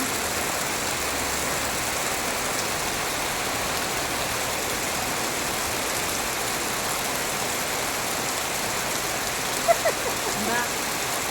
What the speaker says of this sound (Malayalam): ജാസ്തി മഴയുണ്ട്